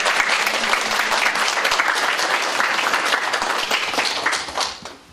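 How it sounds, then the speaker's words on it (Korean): A church congregation applauds warmly to welcome a deacon's visiting parents, dense steady clapping from many hands filling the room before tapering off at the end. "그런 마음을 박수로 올려주세요"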